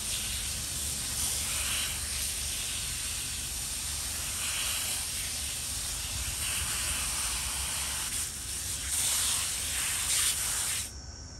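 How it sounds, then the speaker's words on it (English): Water from a hose sprays over fish pond filter parts and a cover being rinsed, a continuous close hiss with shifting splashy intensity near the end, no talk. "Rinse the cover off."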